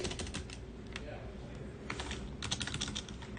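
Typing on a computer keyboard while a PC boots into Windows after an upgrade, with rapid clicky keystrokes coming in bursts over a low steady hum from the machine.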